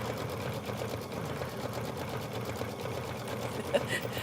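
An embroidery machine runs steadily with a continuous rhythmic mechanical whir, close and moderately loud, under people chatting during a Kimberbell quilt stitch-along.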